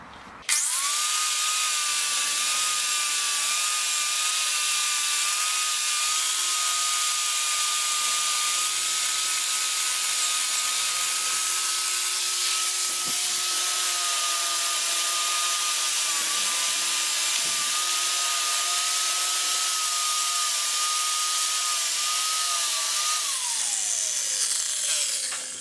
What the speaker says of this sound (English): I'm just going to wire wheel and clean up these rusty spots.